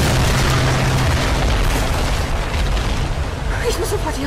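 An explosion goes off in the video game Tomb Raider, a loud deep boom and rumble that fills the moment and then fades into crackling debris.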